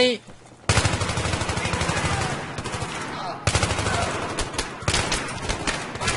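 Rapid automatic gunfire in Battlefield 3, loud and close, with dense bursts that fill nearly the whole stretch and a short break partway through.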